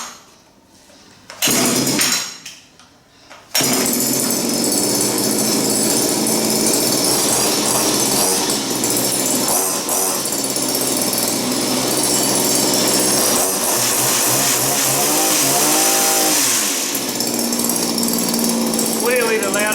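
A petrol hedge trimmer sputters through a few short start-up bursts, then its small two-stroke engine roars continuously at full, buzzing volume, rising in pitch as it revs, with a voice briefly audible.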